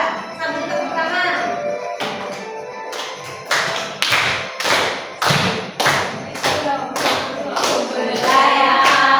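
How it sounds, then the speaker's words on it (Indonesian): A seated class claps along during a classroom lesson, bursts of irregular hand claps and thuds that grow faster and livelier toward the end, with singing voices underneath. "Duduk saja sambil tepuk tangan."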